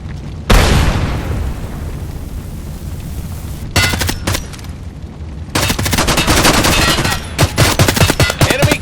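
A frag grenade blast booms in a first-person shooter, followed by a rumbling tail and then rapid bursts of loud, close automatic gunfire.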